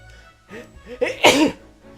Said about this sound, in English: Unfiltered sneeze.